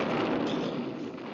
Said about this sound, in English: Oh, boy, Boris, those things make loud booms.